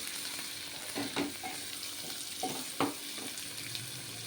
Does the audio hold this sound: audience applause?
no